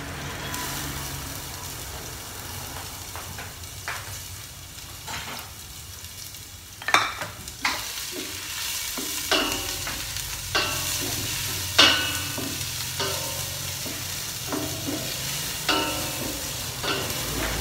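Chili being sautéed (gisa) in a pan for ginataang papaya, a continuous sizzle with repeated sharp scrapes and clanks of stirring, a low engine-like hum underneath.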